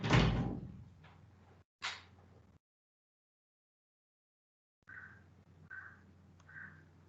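A door swings open with a loud thud and clatter, followed by a second shorter knock, then silence and faint tonal beeps at a distance.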